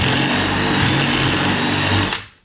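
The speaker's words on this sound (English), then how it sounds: "all we're gonna do is drill this sucker out" A power drill with a 3/4 inch bit whirs loud and steady at close range for about two seconds while drilling out a part on a Dodge RAM 3500 truck, then spins down and stops.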